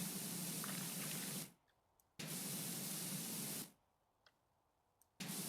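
A pressure washer sprays in PowerWash Simulator in two long, loud hissing bursts. Each burst cuts off into near silence, and faint drips and clicks sound in the gaps before the spray starts again.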